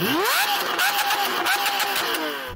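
A Lamborghini Aventador V12 revs up sharply from idle, then holds a high, slightly wavering note with repeated throttle blips, loud and close throughout.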